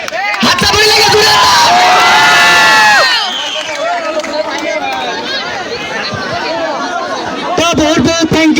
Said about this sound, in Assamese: হাত চাপৰি লাগে জোৰে